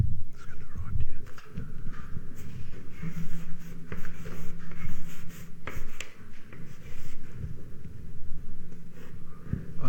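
Chalk taps and scrapes across a blackboard in short irregular strokes during a cricket history lecture, with soft talk and room noise in the background.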